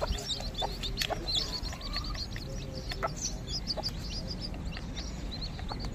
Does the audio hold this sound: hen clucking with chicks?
yes